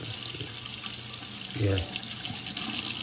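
Faucet left running with steady water flow after ignitor and recirculation pump repairs on a Rinnai water heater, close to the heater, with a brief spoken word partway through.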